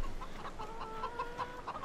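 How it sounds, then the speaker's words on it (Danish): Hens clucking in the farming video game Farming Simulator 2017: a string of soft, repeated clucks and murmurs at a steady pace, mid-distance and fairly quiet over low ambient noise, no talk. "Det er til gengæld min høns."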